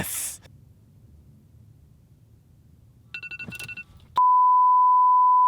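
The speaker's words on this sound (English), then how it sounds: "Why is the ringtone not nice?" A shrill phone ringtone goes off: a quick burst of stuttering electronic beeps, then a loud, steady unbroken tone that holds until the end, close and harsh, after a short stretch of quiet.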